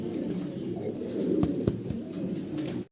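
Fancy exhibition pigeons coo continuously in a dense, low, rolling chorus, close and steady, with a few sharp clicks over it.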